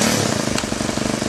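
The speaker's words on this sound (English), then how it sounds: "I'm going to be running this engine here off of plastic diesel." An engine running on gasoline made from plastic waste chugs loudly and steadily in a fast, even rhythm, close up, with no talking.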